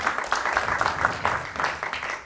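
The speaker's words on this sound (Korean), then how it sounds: "일단 박수 한번 주세요" Small group at a fathers' parenting talk giving a brief round of applause, a moderate, fairly dense patter of claps.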